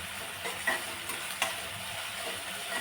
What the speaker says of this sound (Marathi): याची फोडणी करून घेणार आहे आपण